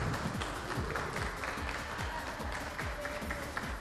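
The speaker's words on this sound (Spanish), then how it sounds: "Fuerte el aplauso." Audience applause on a Spanish-language TV competition show after a finalist is eliminated, a steady dense clatter of many hands clapping throughout at moderate level.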